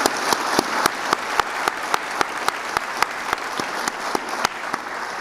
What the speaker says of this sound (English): So a round of applause to the staff, friends, family here today.